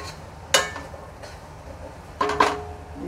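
A metal lid set down on a pot of vegetable biryani, giving a sharp clink followed about two seconds later by a couple of quick rattling clanks, fairly close and otherwise quiet.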